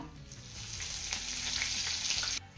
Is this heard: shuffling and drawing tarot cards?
no